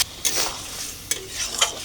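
A pan of cucumber curry fries as water is poured in, giving a soft steady sizzle broken by several sharp hissing bursts and stirring scrapes, close by and with no talking.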